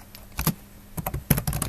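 Keys on a computer keyboard are typed in quick, close clattering bursts separated by short pauses, with no talking.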